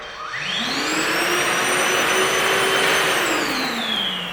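A Milwaukee M18 cordless vacuum on level 1 spins up with a rising whine, holds a steady airy roar with high tonal whistles, then begins to wind down near the end.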